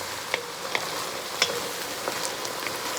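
Meat for taco soup sizzles steadily in a hot pot, a continuous close frying hiss with occasional small pops and crackles and no voices.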